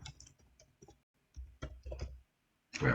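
Several quiet, sharp computer mouse clicks arrive in small irregular clusters with short silent gaps between them, heard close up and alone.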